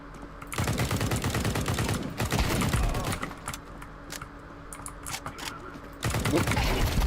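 Rapid automatic gunfire from the video game Counter Strike 2, loud bursts of closely spaced shots with a pause in the middle, followed by further scattered shots and mechanical clicks.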